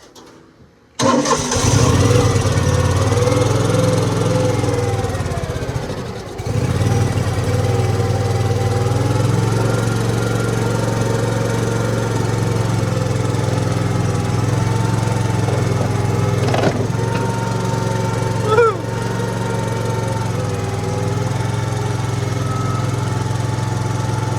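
A 1970s skid steer engine cranks and catches with choke and throttle, then settles into a loud, steady running drone close by, with a few brief clunks over the top.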